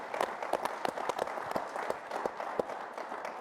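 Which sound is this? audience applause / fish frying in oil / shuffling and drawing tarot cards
audience applause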